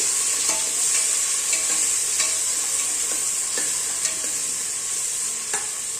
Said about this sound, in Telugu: ఉల్లిపాయలు మంచిగా ఎర్రగా ఫ్రై అవ్వాలి